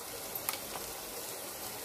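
Garlic and green chili sizzle in hot oil in a Bengali home kitchen, a steady close crackle with a couple of brief pops and no talk.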